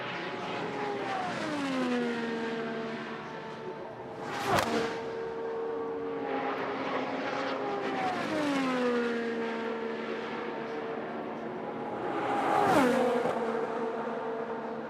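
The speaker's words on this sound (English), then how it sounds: "Third lap for Katherine Legge. Remains really solid" An IndyCar race car laps Indianapolis Motor Speedway during Indy 500 practice, its high-revving engine whining past in repeated swelling passes with sharp Doppler drops, loud and close with no talk.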